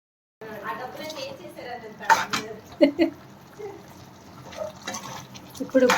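Chicken curry stirred in a cooking pot after water, salt, chili powder and turmeric go in, giving wet clanks and scrapes of a utensil against the pot with several sharper knocks, while someone talks over it.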